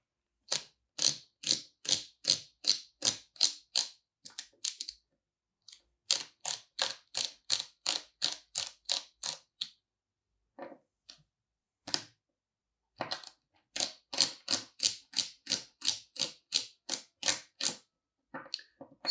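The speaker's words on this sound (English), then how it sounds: "I want to take these two grip screws out and move them one over" Grip screws turned out of a MetMo Fractal Vise produce quick runs of crisp, evenly spaced mechanical clicks like a ratchet, arriving close and clear in several bursts separated by short silences.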